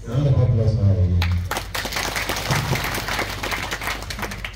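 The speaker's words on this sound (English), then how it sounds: "A round of applause for her again." An audience applauds after a student research presentation, a dense wash of clapping that begins after a low voice fades out and continues steadily, moderately loud, to the end.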